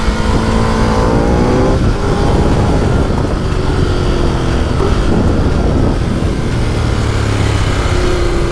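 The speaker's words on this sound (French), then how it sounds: "Quel son cette machine!" A 2012 Ducati Multistrada 1200 motorcycle accelerates hard on a gravelly winding road, its engine note climbing in loud, close sweeps over constant rushing wind.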